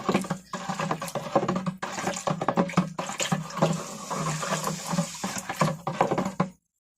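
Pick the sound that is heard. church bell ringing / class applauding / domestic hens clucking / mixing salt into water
mixing salt into water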